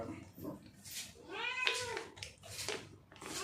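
A cat meows repeatedly at home during holiday cooking, several drawn-out complaining calls close by, with someone speaking in between.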